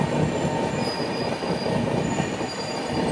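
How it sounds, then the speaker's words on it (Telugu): An AP Express passenger train runs alongside a goods train, producing a loud, continuous rumble of wheels on rails with a high metallic squeal sustained throughout, close by and with no voices. "ఆ గూడ్స్ ట్రైన్ మన ట్రైన్ అయితే ప్యారలల్గా ముందుకు పోతుంది, ఆ ట్రైన్ వెనక పోతుంది"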